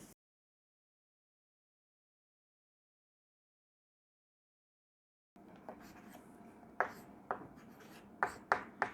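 Chalk writing on a board during a biology lecture. After several seconds of silence, short scratchy strokes and sharp taps come quietly and irregularly, each one brief and distinct.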